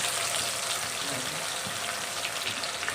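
Spice mixture poured into hot oil left from frying fish, with a dense, steady, loud sizzle and hiss that fills the whole clip without pause.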